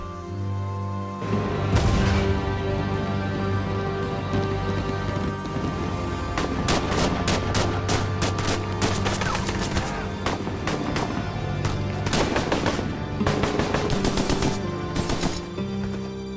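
Gunshots ring out in Broken Sword 5 as a man fires out a window, a series of sharp cracks in irregular clusters over steady background music and ambience.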